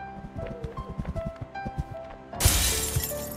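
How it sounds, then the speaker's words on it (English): Glass doors in the video game Human Fall Flat shatter in one loud, bright crash that rings out at the end, following a run of quick thudding footsteps. "Now smash the glass doors."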